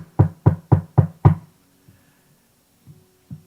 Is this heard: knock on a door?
yes